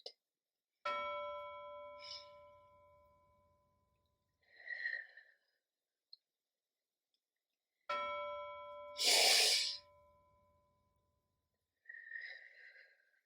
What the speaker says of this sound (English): when you hear a bell, you'll know to breathe in and fill your belly big